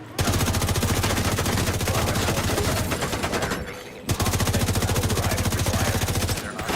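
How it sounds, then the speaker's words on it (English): Sustained rapid automatic gunfire from the video game The Division, set in Brooklyn, loud and close, rattling in dense bursts for about three seconds, a brief pause, then another long burst. "Throwing bullets downrange."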